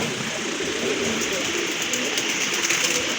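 Rajgolla pigeons coo softly and repeatedly at a pigeon market stall, the low murmuring calls steady under a busy, noisy background.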